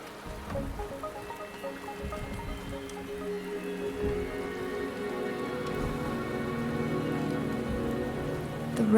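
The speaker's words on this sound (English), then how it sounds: "The rain is subsiding, and the sky will soon clear." Rain in a Wuthering Waves video game cutscene, a dense, steady patter of drops on surfaces that swells slightly toward the end, heard with no speech over it.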